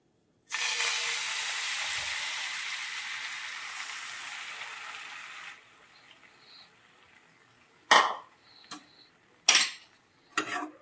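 Beaten egg hits a hot tawa coated in oil and butter, bursting into a loud, bright sizzle that holds for about five seconds and then drops away, followed by a few sharp metal utensil clinks.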